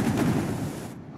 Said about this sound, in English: I heard explosions.